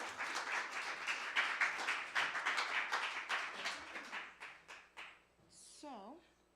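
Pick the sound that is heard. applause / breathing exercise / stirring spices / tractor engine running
applause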